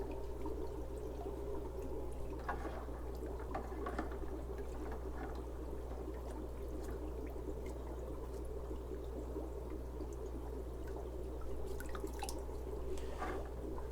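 Aquarium filter foams from a Sicce Shark ADV 600 internal filter are rinsed in a bucket of dirty water, giving soft drips and small splashes over a low steady hum.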